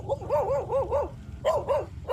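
A dog barks in quick rhythmic runs, first a string of four barks, a short pause, then three more, loud and close with no talk over it.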